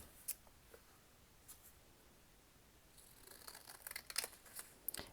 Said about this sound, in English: Let's get out the professional scissors, if you will.